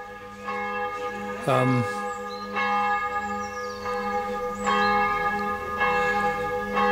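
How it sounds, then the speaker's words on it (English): Church bells in Germany ring out from across the street in repeated, resonant strikes with long sustained tones, steady and fairly close, with faint voices in the background. "It's across the street from the church, which is why you hear the bells the way you do."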